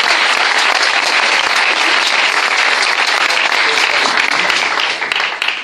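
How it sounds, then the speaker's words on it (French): A church congregation at the Tabernacle de la Liberté in Yaoundé, Cameroon, applauds in a loud, close, continuous wash of clapping that stays full for about five seconds and then tapers off. "Est-ce que nous pouvons applaudir le Seigneur?"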